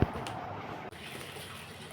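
Water pours steadily into a wok set up for boiling pasta, giving a continuous splashing hiss that holds for about two seconds before dipping briefly and carrying on.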